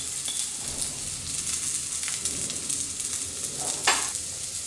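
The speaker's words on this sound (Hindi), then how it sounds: "इसमें प्याज जो है हम अच्छे से पहले भून लेंगे" Onions and sesame seeds fry in a pan for stuffed masala eggplant, giving a steady, close sizzle with occasional louder crackles and pops throughout.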